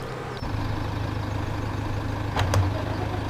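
A tractor engine idles steadily in the video game Farming Simulator 2017, a low, even drone that starts abruptly and runs on alone, with a couple of brief clicks partway through.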